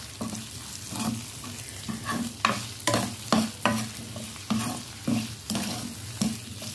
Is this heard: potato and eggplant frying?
yes